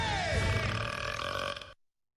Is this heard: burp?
yes